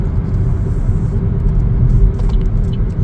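A Chevrolet Trax Activ on a test drive gives off a steady, loud low rumble of engine and road noise, heard from inside the cabin with no talking.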